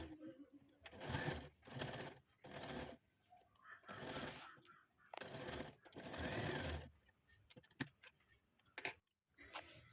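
A sewing machine stitches a round seam on fabric for a latkan tassel, running in repeated bursts of steady whirring with short pauses and clicks between, close and loud.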